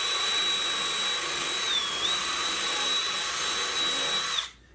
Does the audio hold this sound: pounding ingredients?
no